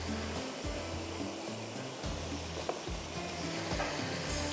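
Masala sizzles steadily in a pan for aloo chana chaat, a close, even hiss of frying broken by soft stirring scrapes and low knocks.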